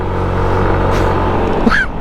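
A loaded SYM Cruisym 125cc scooter carrying about 170 kilograms labours up a hill, its engine giving a steady, loud, low drone over heavy wind rush with no letup.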